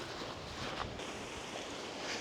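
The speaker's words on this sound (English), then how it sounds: "It's incredibly windy up this bit." Strong wind roaring and buffeting the microphone, a constant rushing noise with no other clear sounds.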